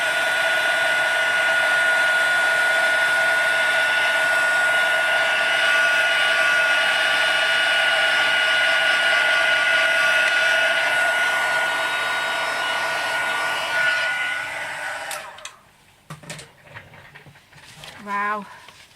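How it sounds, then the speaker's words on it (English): Heat gun blowing a steady, loud whooshing hum while melting embossing powder on a craft piece, running for about fourteen seconds before shutting off, followed by faint handling clatter and a few brief sounds. "I'm just going to bring the heat gun back in"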